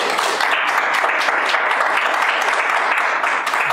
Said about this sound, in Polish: a więc jeszcze raz wielkie brawo